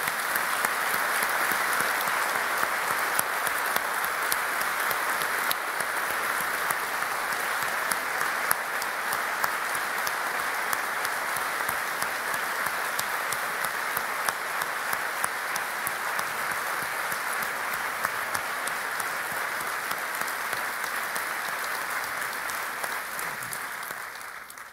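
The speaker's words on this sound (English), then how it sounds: "We've shown our applause to Jonathan" Sustained audience applause in a church gathering after a Bible reading, a long, even roar of many hands clapping that holds steady and tapers slightly at the close.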